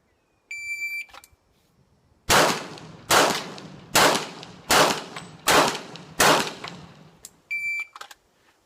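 Six sharp pistol shots ring out at steady, evenly spaced intervals during practice at steel targets 35 yards away, bracketed by a shot timer's electronic beeps at start and end.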